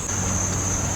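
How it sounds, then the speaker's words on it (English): A lawnmower runs nearby with a loud, steady engine drone that holds unbroken for the whole second, with no talk over it. "Sorry about the lawnmower noise."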